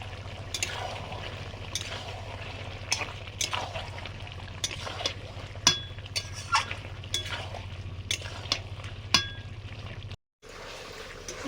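Chicken kosha cooks in a pan as fried potatoes go in, with repeated clinks and scrapes of a spoon against metal over a steady low hum and faint sizzle, then a brief cut to silence near the end.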